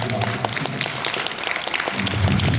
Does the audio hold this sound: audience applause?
yes